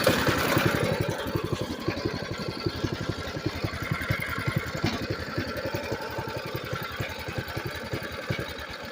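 A Predator 212 engine on a Coleman CT200U mini bike runs steadily near the microphone. Its rapid, even putter is loud and continuous for the whole stretch, with no voices over it.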